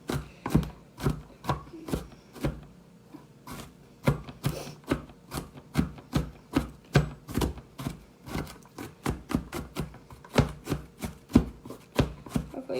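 Vegetables are chopped with a knife on a cutting board in a home kitchen, giving a steady run of close, crisp knocks in an irregular rhythm with brief pauses and no talking.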